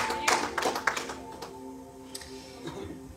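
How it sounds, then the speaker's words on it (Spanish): A church congregation claps along during a service, a few quick rhythmic bursts of hand claps at first that soon thin out and fade, with a faint voice beneath. "Denle en palmas al Señor, amados hermanos."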